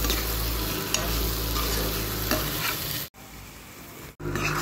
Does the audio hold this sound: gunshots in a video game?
no